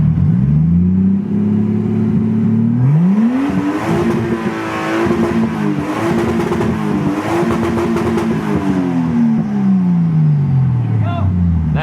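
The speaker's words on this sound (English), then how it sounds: "Alright, go ahead, give it some RPMs." Toyota Supra with a straight-pipe exhaust revving hard, loud and close, its engine note climbing and falling through several sustained high-RPM pulls over about twelve seconds; voices are faintly audible beneath it.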